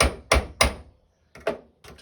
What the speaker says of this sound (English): I'm going to just tap it gently with the ball peen hammer